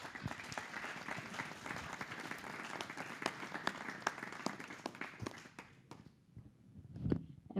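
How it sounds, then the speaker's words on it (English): Sustained applause from a panel discussion audience, steady dense clapping that fades out near the end. "Give yourselves a round of applause."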